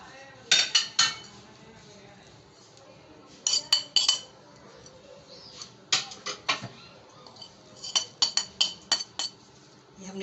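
Spices for an oil-free chicken tikka tipped in over raw meat in a metal bowl, heard as bursts of close metallic clinks and taps from spoons and containers, spread in several clusters with quiet pauses between.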